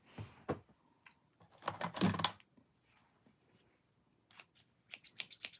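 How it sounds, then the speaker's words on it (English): Sharp sewing snips are handled and cut while a scrub top is being sewn, giving quiet, crisp snipping clicks in small bursts with pauses between, faint and close up. "These are some sharp snips. They cut very well"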